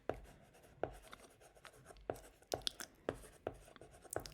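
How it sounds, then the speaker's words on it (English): A pen writes today's date by hand on paper, soft close scratching strokes with sharp little taps between them, quiet and intimate in a calm setting. "let me just write down today's date first"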